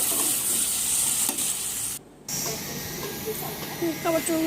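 Greens sizzle and hiss steadily in a hot pan while being stirred, with scraping stir strokes, a brief pause in the frying noise midway and a few light clinks near the end.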